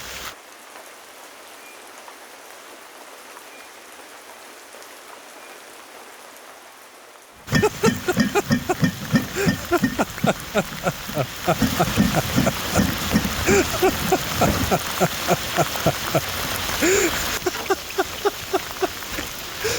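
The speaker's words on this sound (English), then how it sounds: "It's raining so heavily." Heavy rain drums on a sailing boat while cruising in Brittany, starting abruptly as a dense, loud downpour of close spattering drops on deck, steady and unbroken with brief faint voices underneath.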